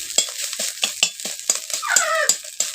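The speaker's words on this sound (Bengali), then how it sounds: "ডিমগুলোকে দেখো ভেজে নিচ্ছি ঝুরি ঝুরি করে।" Eggs fry and get scrambled into crumbly bits in a pan beside a fish curry, with a spatula scraping and tapping in a steady rhythm over a soft sizzle, close and fairly loud.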